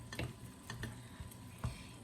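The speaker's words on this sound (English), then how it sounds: "it's best that you constantly stir the chocolate inside the double boiler here" Melted chocolate being stirred in a double boiler, with a few soft scraping strokes and light clicks of the utensil against the bowl, fairly close and quiet, spaced irregularly with no talking.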